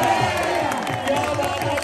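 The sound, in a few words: crowd clapping and cheering at a kabaddi match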